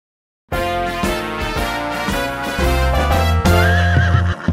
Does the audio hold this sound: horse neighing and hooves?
yes